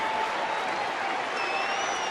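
A lively baseball stadium crowd of about 21,000 cheers and applauds in a continuous, dense roar, with whistles rising above the sustained wash of noise.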